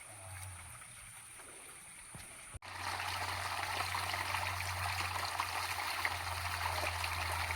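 Steady rushing water from a hot spring at Unhavare flows continuously, loud and close, after a brief quieter stretch with a low hum at the start.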